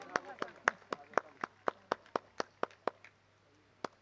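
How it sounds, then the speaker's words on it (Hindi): Rhythmic applause at an event honoring Chief Minister Yogi Adityanath with Bhagavad Gita translations, sounding as about fourteen evenly spaced sharp claps that fade out, followed by one last isolated clap, over a low steady hum. "जोरदार तालियों के साथ हरि बोल"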